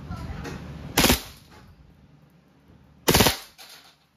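A WE Hi-Capa T-Rex airsoft pistol fires two short full-auto bursts, each a sharp rapid rattle of shots up close, separated by a couple of seconds of near quiet.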